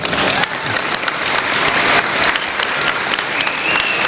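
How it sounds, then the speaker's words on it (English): Steady applause from a ceremony audience for scholars standing at a white coat ceremony, a dense wash of clapping that stays loud and even throughout with no talking over it. "would you please stand so we can give you a round of applause."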